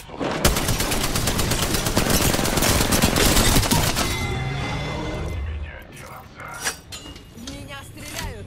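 Rapid automatic gunfire in Apex Legends rattles loud and dense for several seconds, then tapers into scattered shots and impacts, with a voice speaking over the firefight.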